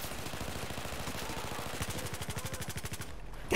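Rapid automatic gunfire in Battlefield 4 rattles in a dense, steady burst, the individual rounds becoming distinct and evenly spaced before stopping abruptly near the end.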